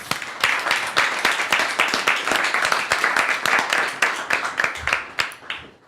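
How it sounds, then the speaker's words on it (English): An audience applauds a band at a talk show taping, with dense, sustained clapping from a crowd that stays even and loud, then tapers off near the end. "Let's give them a round of applause"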